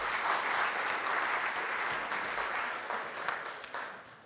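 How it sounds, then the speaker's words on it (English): Keynote audience at a technology conference breaks into a broad round of applause, dense steady clapping from many hands that fills the room and tapers slightly toward the end, with no talk over it. "I think you guys all deserve a big round of applause."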